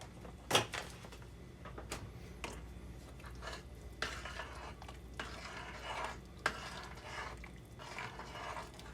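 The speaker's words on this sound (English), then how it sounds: "Give us a nice stir." Stirring Parmesan Italian sausage soup in a pot, with scattered scraping and clinking knocks of a utensil against the pot at an uneven pace, fairly quiet with soft bubbling between strokes.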